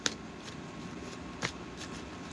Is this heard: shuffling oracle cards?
yes